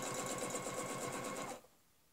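A sewing machine runs steadily for about a second and a half, stitching a quilt border along a ruler, with fast, even needle strokes that stop abruptly and leave near silence.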